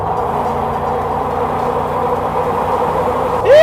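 A cheap pickup truck engine during a drag race, heard as a steady droning engine with a low rumble, then a quick rising rev surge at the end, loud and close.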